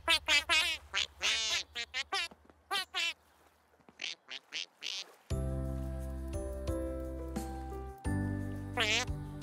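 A cartoon duck quacks in quick repeated bursts, loud and close, then music plays with a final quack near the end, in a children's animated episode.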